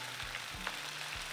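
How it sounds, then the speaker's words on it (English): Bok choy frying in a pan for a vegan tofu stir fry, a steady close sizzle with faint clinks, brief and without talking. "Now I'm adding the bok choy in."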